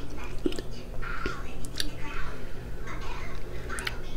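Close-up chewing of a sushi piece topped with wasabi, with soft wet bites and mouth sounds repeating in bursts, close to the microphone, with faint speech-like noise underneath.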